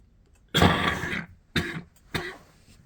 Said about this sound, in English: Still coughing up stuff.